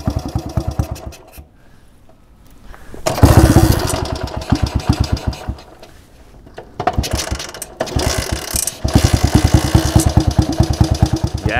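Small petrol engine cranking, catching and running unevenly, a loud, close, rapid chugging that revs, dies away to a lull, then picks up again into a sustained rattling idle.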